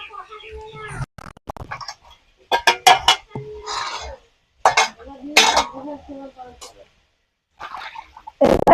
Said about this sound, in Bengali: ভালো করে একটু নাড়াচাড়া করে নিচ্ছি